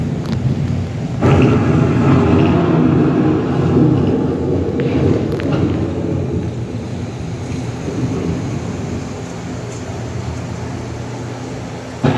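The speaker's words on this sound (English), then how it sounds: "The approaching storm may seem violent and destructive to us, but to nature, it's a new beginning in the cycle of life" An approaching thunderstorm rumbles loud and near, a deep rolling thunder swell over steady heavy rain that fades slowly toward the end, with no voices.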